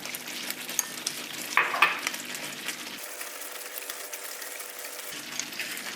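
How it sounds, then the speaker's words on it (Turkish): A teaspoon of starch being stirred into a tablespoon of water for a date tart, a quiet continuous swirling and light scraping with a brief clinking flurry partway through, close and with no talking. "bir tatlı kaşığı nişastayı bir çorba kaşığı suyla şöyle açacağım"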